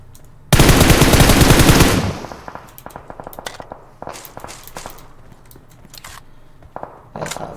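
A loud, sustained burst of automatic gunfire in a video game, followed by scattered quieter shots and clicks with a steady background hum.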